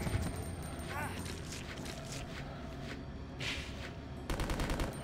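Rapid, dense gunfire from Resident Evil Code: Veronica crackles almost without pause, ending in a sharper, louder volley. Voices talk over the shooting throughout.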